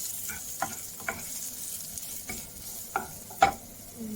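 Chicken of the woods mushroom pieces stirred in a frying pan with salt and pepper, soft sizzling under scattered scrapes and knocks of the utensil, several distinct stirs with the last one loudest.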